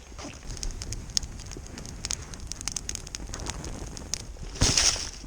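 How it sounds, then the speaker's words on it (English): A campfire crackles and pops steadily while pork loin cooks on a stick outdoors. The sharp snaps come close and clear with no talking, and a louder burst of crackle swells near the end. "We have made fire."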